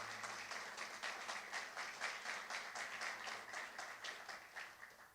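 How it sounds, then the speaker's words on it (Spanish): An audience at a church gathering claps together in steady, rhythmic applause that stays even and moderately distant throughout, with no voices over it. "démosle un aplauso al Señor por Cristian"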